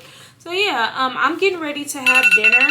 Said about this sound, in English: That's my alarm telling me my dinner is ready.